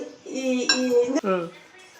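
A utensil clinks and scrapes against a bowl while grated cucumber is mixed with mayonnaise, with a few close, sharp ringing taps over steady stirring.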